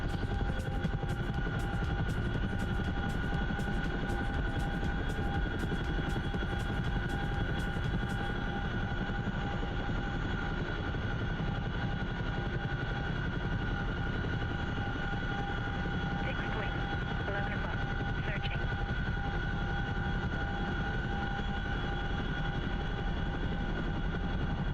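Steady, loud engine drone of an aircraft landing in the DCS World flight simulator, a constant throbbing roar throughout with a faint rapid ticking early on.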